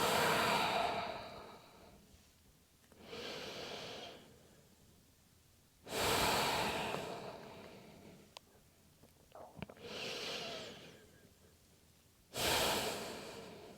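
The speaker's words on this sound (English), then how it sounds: "3 deep breaths." Slow, deep breaths drawn in a yoga child's pose: several long inhale-exhale cycles, each a soft whooshing swell separated by quiet pauses, close and steady with no talking.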